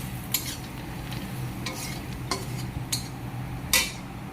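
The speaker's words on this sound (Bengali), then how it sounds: "হলুদটা দিয়ে দিয়েছি, হলুদটাকে আগে ভালোভাবে মিক্স করে নিতে হবে" Stirring turmeric into fried onions in a pan, with a few sharp utensil scrapes and clinks standing out over a low, steady background sizzle.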